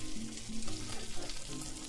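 Turkey Salisbury steak fries in a hot pan, giving a steady, close sizzle with crackling pops throughout and low kitchen hum beneath.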